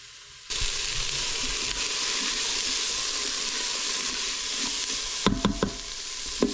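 Onion, red pepper and garlic frying in a pan for chilli con carne, a steady close sizzle starting abruptly and holding, with a few sharp utensil clinks and stirring knocks near the end.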